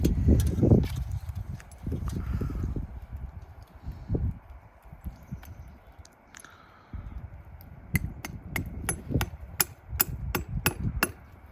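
A hammer drives a tap into a maple tree outdoors, with a sharp, evenly spaced run of about ten close knocks near the end, after earlier scattered handling noise and quieter gaps.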